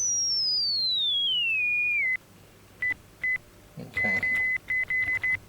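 A pure, whistle-like tone from a Korg Minilogue synthesizer with filter resonance at maximum glides downward, then sounds again in short repeated blips at a fixed pitch, with a brief spoken word between them.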